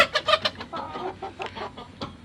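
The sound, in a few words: native chickens clucking in coop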